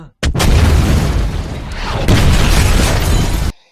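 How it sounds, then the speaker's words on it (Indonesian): A building blows up from a gas cylinder in a film scene: a sudden loud blast opens into a sustained roaring rumble with debris, surging again midway before cutting off abruptly. "gedung itu pun meledak"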